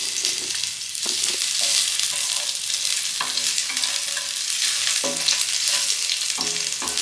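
Garlic frying in hot oil for a cauliflower palya, a bright, constant sizzle with repeated clinks and scrapes of a spoon stirring in the pan, close and without talk.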